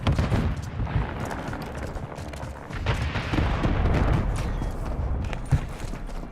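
Dense, loud gunfire in Call of Duty Modern Warfare 3 multiplayer, with overlapping shots and explosive bursts running steadily throughout and no voices.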